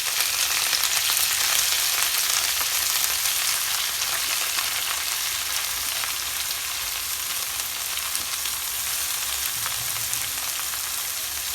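Pokla leafy greens dropped into hot oil with lightly browned garlic, giving a loud, continuous frying sizzle with no voices.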